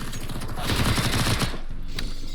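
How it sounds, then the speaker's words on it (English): A burst of close, rapid gunfire in a competitive shooter video game, a dense volley lasting about a second followed by a single sharp shot. "And Chico killing Connor through a smoke, through a wall, headshot, no scope."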